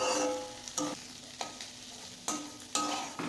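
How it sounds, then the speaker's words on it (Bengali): Egg fried together with potatoes and vegetables for chicken chow mein sizzles in a pan, with several sharp bursts as a spatula stirs and scrapes at close range and no voices. "তোমরা কারা এইভাবে ডিমের সঙ্গে একসঙ্গে আলু সবজিগুলোকে ভেজে নাও?"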